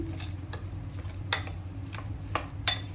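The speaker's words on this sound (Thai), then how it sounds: "แม่ขอใช้ช้อน คนกดนิดหนึ่งนะคะให้เพื่อให้ส่วนผสมเขาเข้ากันดี" A spoon stirs and presses a minced pork mixture seasoned with soy sauce in a bowl, giving a few sharp, spaced clinks over a soft low background hum, with no talking.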